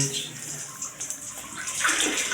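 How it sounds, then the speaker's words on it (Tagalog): A repaired second-floor shower, once weak from low water pressure, runs strongly with a steady close hiss of spraying water that swells slightly toward the end. "Gumana na yung shower."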